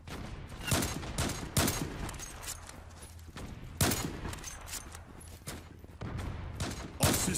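Rapid bursts of automatic gunfire in the shooter game Zula crack out in several clustered volleys, loud and close, with short gaps between each flurry.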